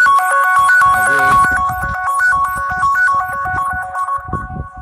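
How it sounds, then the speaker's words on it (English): A phone ringtone for an incoming call plays loud and close, a steady repeating electronic melody running the whole time, with faint background noise underneath. "Phone call."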